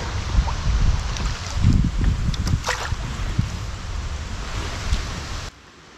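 Wind and waves at a sea shore, a steady rough rush of gusts with microphone buffeting and lapping water, loud throughout before cutting off abruptly at the end.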